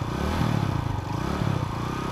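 A Congolese national police motorcycle in Tanganyika province runs with a steady, rough mid-pitched engine drone and some clatter, continuous and moderately close with no talk.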